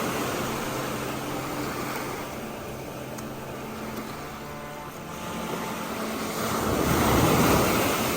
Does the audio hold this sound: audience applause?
no